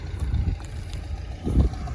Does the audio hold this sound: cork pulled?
no